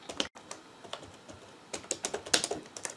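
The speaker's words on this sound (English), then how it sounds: "I'm going to try to type something out on it and see how it comes out." Typing on a vintage laptop keyboard with key float, a run of close, crisp keystrokes in irregular bursts with a brief pause near the start, growing busier toward the end, no voices.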